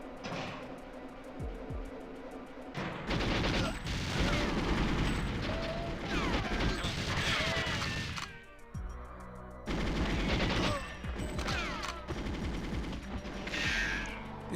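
Gunfire in the video game GoldenEye 007 on Agent difficulty: loud, sustained bursts of automatic shots with mechanical clatter, broken by a short lull around the middle before firing resumes.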